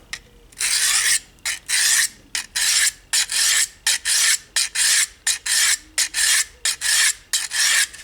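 A blade is stroked across the 300 grit side of a Harbor Freight four-sided diamond hone block, giving a close, loud, rhythmic rasp of about fifteen even strokes with short pauses between them.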